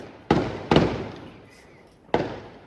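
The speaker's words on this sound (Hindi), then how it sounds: "पटाखा बजाओ दोस्तों" Firecrackers go off in three sharp, loud bangs, two close together and a third after a pause, each leaving a short rumbling decay, heard outdoors at moderate distance.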